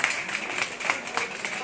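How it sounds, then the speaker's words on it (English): Audience applause fills a room at a political party chapter meeting, steady dense clapping from many hands that holds at an even level throughout with no pauses. "Applaud, please."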